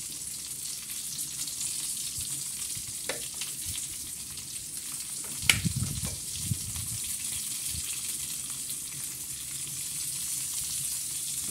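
Onions frying in a pan while making chicken fillet with onions, a steady sizzle throughout with a brief louder burst of spattering and stirring about midway, no talking.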